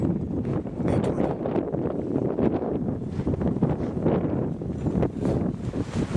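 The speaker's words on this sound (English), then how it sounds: "Camp 1. Very windy day." Strong wind roars steadily at Camp 1, a crowded mountain high camp, with continuous gusty buffeting across the microphone and no pauses.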